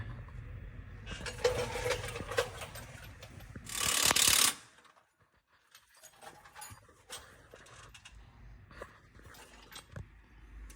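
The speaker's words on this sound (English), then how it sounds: "Now we're going to tighten the U-bolts" Wrench work on U-bolts of a Flxible bus torsilastic suspension: dense mechanical clicking and clanking with a loud grinding burst partway through, then quieter scattered metallic knocks, close by.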